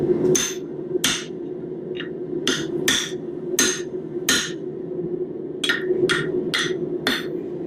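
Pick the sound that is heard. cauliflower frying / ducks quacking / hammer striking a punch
hammer striking a punch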